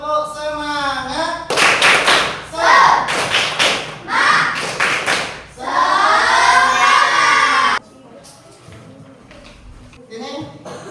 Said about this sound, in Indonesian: Coba kita tepuk itu dulu.